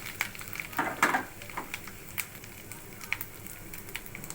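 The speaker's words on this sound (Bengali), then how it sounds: "এবার দেবো আদা বাটা, দিয়ে এটাকেও সুন্দর করে ভেজে নেব" Ginger paste frying in a pan after a bay leaf tempering for chana dal, a soft low sizzle with scattered small pops and a few stirring clicks early on, close but fairly quiet, with no voices.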